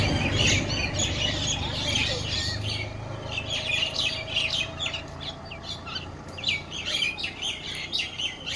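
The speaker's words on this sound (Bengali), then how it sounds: "কত সুন্দর লাগছে, পাখিগুলো খাবার খাচ্ছে।" Many small birds chirp and tweet busily while feeding at a roadside rest spot near Bounghata, calls overlapping in a steady bright chatter over low ambient rumble.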